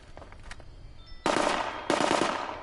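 Two sustained bursts of rapid automatic gunfire from a Fallout 76 firefight, loud and close, each running over a second, with quieter game sounds before them.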